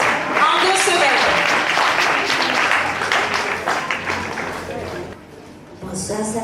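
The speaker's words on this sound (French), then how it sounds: "s'il vous plaît, on applaudit" An audience at a music camp performance claps loudly in a thick, continuous wash with voices and cheers mixed in, fading toward the end before talk resumes.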